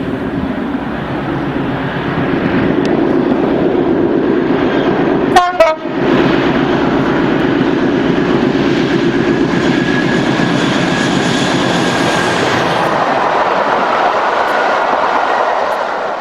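Class 56 diesel locomotive 56078 hauls a rail charter on a York circular, its loud, close engine drone running throughout, broken once by a short horn blast partway through.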